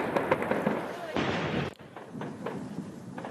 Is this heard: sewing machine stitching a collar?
no